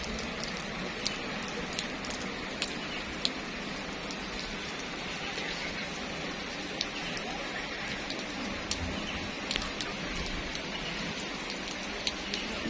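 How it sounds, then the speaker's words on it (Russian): Steady rain falling in Novgorod, a dense even hiss with scattered louder drops tapping nearby, continuous and without talk. "Попали в новгородский дождь."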